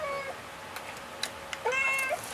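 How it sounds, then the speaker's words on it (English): A cat gives a couple of short, soft meows at close range in a quiet room, with faint background hiss between the calls. "I'm talking to the cat."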